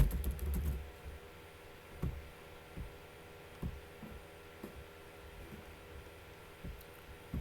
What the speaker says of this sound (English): So I can type here.